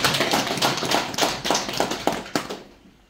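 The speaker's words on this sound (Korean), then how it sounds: "박수 한번 주세요" Lecture audience at a talk on Buan celadon and regional history, giving a short burst of applause as a run of distinct claps that fade out after about three seconds.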